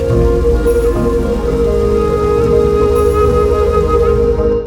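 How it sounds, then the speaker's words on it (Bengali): A heavy downpour pours steadily on the beach at Cox's Bazar, a loud, dense wash of rain on surfaces that holds constant throughout and stands alone with no speech. "মুসুলধারে বৃষ্টি নেমে এলো ছাতার নিচে বসে কেবল একটাই ভাবনা কখন থামবে এই বৃষ্টি"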